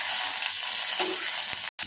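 Spices with crushed garlic, dried red chillies and curry leaves crackle and sizzle in hot oil for tempering, a steady close frying hiss with a brief cut near the end.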